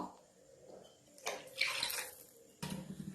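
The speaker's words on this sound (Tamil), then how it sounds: "இப்போ நம்ம ரவைக்கு அளவா தண்ணி ஊத்திக்கலாம்." Water poured into a pan of rava kichadi with a splashing, bubbling rush, followed by a brief clink of cookware, close by.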